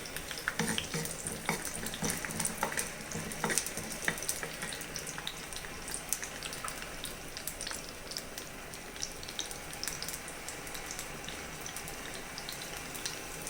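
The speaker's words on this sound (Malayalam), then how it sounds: "നമുക്കിതിലേക്ക് ഒരു പിടി ചുവന്നുള്ളി ഇട്ട് കൊടുക്കാം." A handful of shallots frying in hot coconut oil in a pan, a steady close sizzle and crackle with a few faint utensil clinks, no talking.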